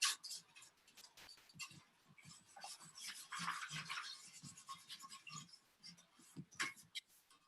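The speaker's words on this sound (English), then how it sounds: "I wait till the dirt dries and I scrub all that dirt off." Dried garden dirt scrubbed off a Root Slayer shovel, a close, steady scratchy brushing with quick irregular strokes and no talk.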